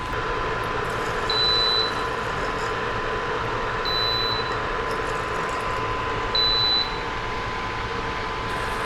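A kitchen stove beeps at intervals while a pot is lifted off during Southern fried chicken and gravy cooking: three short, high electronic tones evenly spaced over a steady hum of kitchen background noise.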